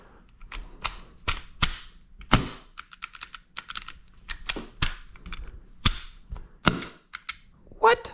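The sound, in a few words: CO2 airsoft gun firing and cycling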